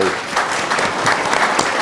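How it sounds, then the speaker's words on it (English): Audience applause at a leadership panel on powering the future, steady dense clapping filling the room at close range, with a voice or two faintly mixed in. "ladies and gentlemen, let's give our guests a big round of applause"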